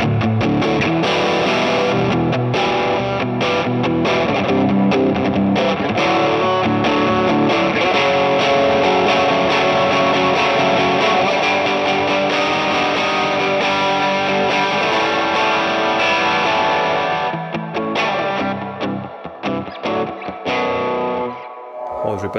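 An electric guitar runs through an indie rock pedalboard with reverb and added drive, playing a continuous distorted riff loud and close before it fades into sparse decaying notes near the end.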